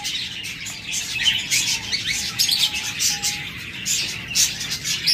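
Pure white albino pet birds, a pair kept with their eggs, chirp in a dense chorus of quick high tweets that carries on steadily throughout at close range.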